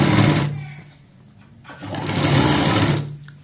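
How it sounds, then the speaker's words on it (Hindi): A sewing machine runs in two bursts as it stitches piping onto buckram for a kurti or suit neck design, whirring loudly and close with a short pause between runs. "तो यहाँ पे बुकरम के ऊपर सिलाई लगाएंगे।"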